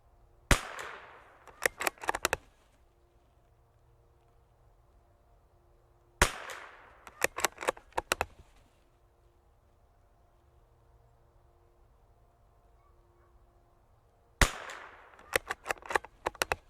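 Three separate bursts of rapid .22LR rifle shots from a Bergara BMR, each burst a quick string of sharp, loud cracks spaced several seconds apart, with quiet range ambience between them.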